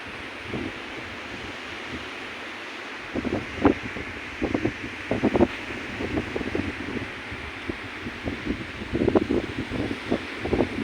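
Sea breeze at a beach hotel and resort, a steady broadband rush of wind with gusty rustling swells rising and falling, no voices present.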